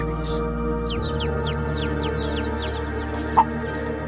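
Chickens cluck and six tiny chicks peep in a grassy yard, a run of high chirps repeating quickly over a steady low background hum, with a single sharper note near the end.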